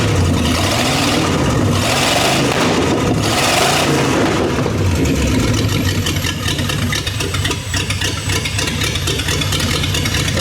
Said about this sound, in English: Let's turn that idle up a bit.